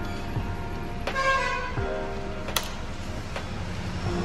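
A TVS Apache 160 BS6 motorcycle horn gives a short, bright beep amid faint background hum and a few sharp clicks.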